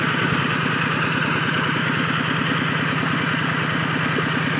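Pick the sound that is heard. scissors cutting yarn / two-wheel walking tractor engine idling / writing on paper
two-wheel walking tractor engine idling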